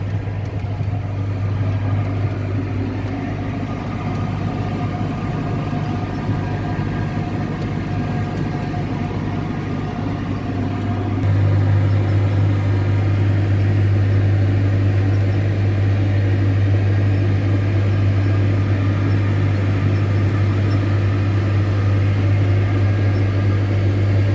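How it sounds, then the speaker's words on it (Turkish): Massey Ferguson tractor fitted with GPS runs steadily while planting peanuts in a field, a loud, even low engine drone that grows slightly louder midway and continues unbroken. "Traktörümüz GPS'li arkadaşlar."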